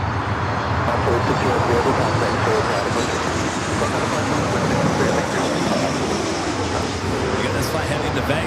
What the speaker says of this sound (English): It's a 2-year-old A321neo.